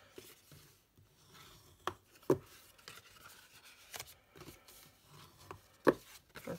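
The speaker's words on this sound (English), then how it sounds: "Then we fold and burnish" Scored paper being folded and burnished by hand for a mini handbag case, with soft rubbing strokes and scattered light taps and clicks, close and quiet with irregular timing.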